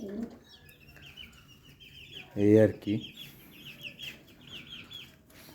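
Hens in a backyard flock give soft, intermittent clucks nearby, with one louder burst of clucking midway, while someone briefly speaks.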